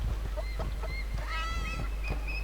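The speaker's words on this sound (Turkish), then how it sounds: "Aa tavuk." Chicken in the video game Serious Sam 2, giving a few short honking squawks over constant low game noise.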